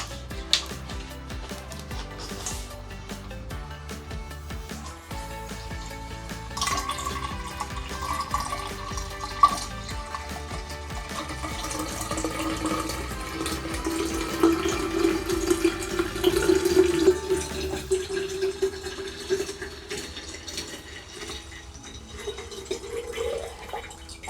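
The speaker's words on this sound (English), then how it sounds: "Now I'm going to pour our juice in." Apple juice pours steadily into a fermenter for a long stretch, splashing and gurgling, with the pitch rising as it fills.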